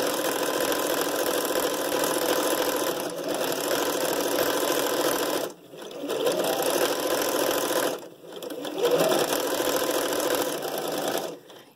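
A sewing machine stitches fabric in three long runs of steady, close, humming mechanical rhythm, separated by short pauses.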